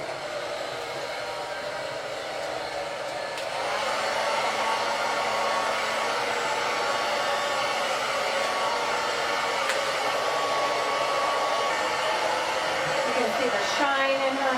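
Hair dryer blowing steadily while hair is blow-dried, a continuous close whooshing hum that grows slightly louder after a few seconds and holds, with faint handling noises.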